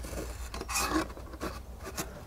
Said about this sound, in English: and I'm cutting under, basically trying to put a chamfer on the foam at about 45 degrees.